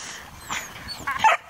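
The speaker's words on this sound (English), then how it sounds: "it's just like a bundle of puppies down there" Small dogs give a few short, high yips and whimpers, close by and moderately loud, with a louder burst near the end.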